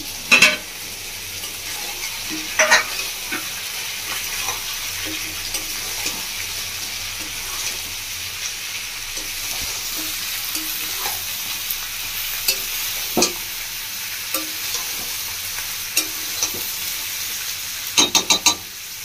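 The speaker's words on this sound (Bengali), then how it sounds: "বন্ধুরা এবার আমি চিকেনটা দিয়ে দিচ্ছি ভেজে রাখা।" Pieces of chicken fry in a pan for home-style chilli chicken while being stirred. A steady, soft sizzle runs throughout, broken by scattered clinks and scrapes from the spoon, with a few louder knocks near the end.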